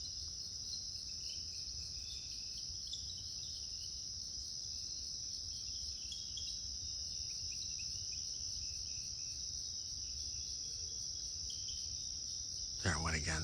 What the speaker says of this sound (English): I can hear it in person, but the insects drown a lot out